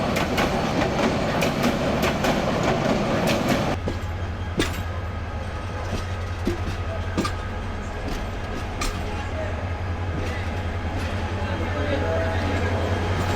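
The Egarosindhur Provati train bound for Kishoreganj rolls past with a steady rumble and rhythmic wheel clatter, close and loud, sharp clicks over rail joints running throughout; a voice speaks over it.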